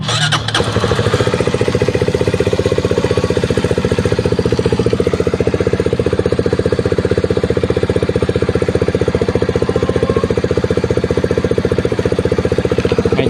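Flash X 150 motorcycle engine started by push button, then settling into a steady, loud, close idle with a fast even thrum throughout.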